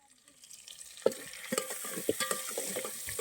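Onion and curry leaves sautéing in a pot for a crab dish, a soft sizzle with several sharp spoon scrapes and stirring knocks over a few seconds.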